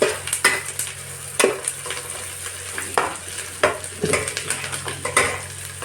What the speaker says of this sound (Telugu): అప్పుడప్పుడు మధ్యలో ఇలా ఫ్రై చేసుకుంటూ ఉండాలి. అవంతా చక్కగా పచ్చిదంతా పోయేలాగా ఫ్రై చేసుకోవాలి.